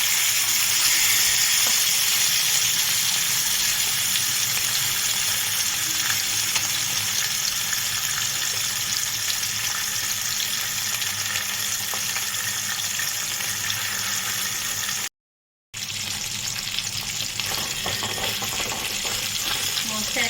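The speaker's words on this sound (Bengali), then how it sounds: "ঠিক ভাজা হয়ে গেছে আমি খুব বেশি কড়া করে ভাজবো না" Turmeric-coated fish fries in hot oil in a kadai, making a loud, continuous close-up sizzle that holds steady throughout, broken only by one brief drop to silence.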